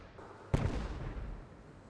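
A sudden explosion in Fallout 4, one sharp blast followed by a rumbling decay that fades over about a second, heard alone.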